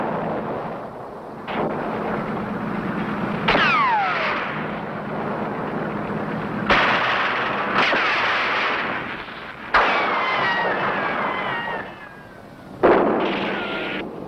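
Wartime battle effects of artillery guns firing during an armored attack in Normandy, with several heavy booms spaced a few seconds apart over a low rumbling backdrop.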